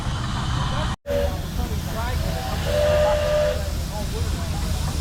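A loud, continuous hiss of escaping steam from a portable steam engine, with a whistling tone, close by, with a brief cutout near the start and faint voices underneath.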